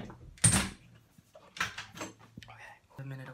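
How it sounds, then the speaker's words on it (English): A door pulled shut in a kitchen, with a sharp bang early on followed by softer handling noises and a person speaking quietly nearby. "So I'm gonna close this door, it's cold."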